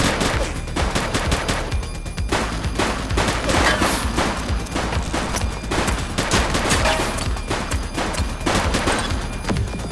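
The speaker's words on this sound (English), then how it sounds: "Shots fired!" Dense, loud gunfire from the police video game The Precinct, rapid overlapping bursts of automatic shots in a continuous fusillade over about ten seconds with no break.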